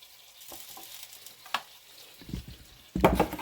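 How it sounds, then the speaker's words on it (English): Portobello mushrooms hit a hot frying pan with brief sizzling bursts, building to a louder crackling fry near the end, close and with no talking. "We're going to put the mushrooms back in this pan right here."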